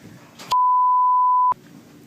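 A single steady censor beep lasting about one second cuts sharply into a man's speech, which is heard faintly just before and after the tone.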